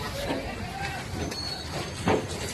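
Rumbling freight train noise with faint metallic squeals as DAP fertilizer is loaded onto trucks, mixed with voices and a louder clunk near the end.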